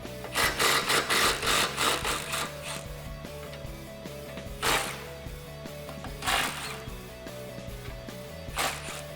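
A 15 mm deep socket ratchet loosens the nuts on the exhaust band clamps of a 2015-2017 Mustang GT. Rapid clicking comes first, then a few isolated ratchet bursts spaced seconds apart over a steady low hum.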